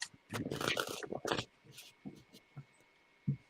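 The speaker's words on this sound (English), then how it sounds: "I'm a loud shuffler." Tarot cards are shuffled loudly and close up in one rough, scratchy riffling burst. A few softer taps and shuffles follow in a quiet room.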